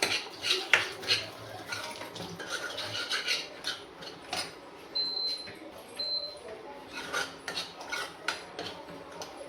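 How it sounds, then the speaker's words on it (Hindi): Dry spices and powdered masala for sambar roasting in a pan, with a spoon scraping and stirring against the metal in uneven bursts, close but fairly quiet, with faint sizzling and a few light clinks. "और अब इन सूखे मसालों को अच्छी तरह से भून लूँगा जब तक कि ये ऑयल रिलीज ना कर दें।"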